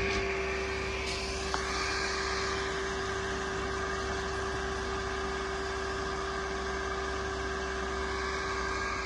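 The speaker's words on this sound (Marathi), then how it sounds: "आणि आता मोटर चालू करते." A farm well water pump motor runs steadily, a continuous loud mechanical drone with a strong constant hum throughout and no voices.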